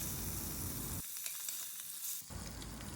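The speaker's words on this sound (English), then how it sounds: "on medium flame we will fry them until they turn golden brown from both the sides" Fish pieces seasoned with salt and turmeric fry in oil in a karahi over a medium flame, a steady close sizzle that drops away briefly in the middle and then returns at full crackle.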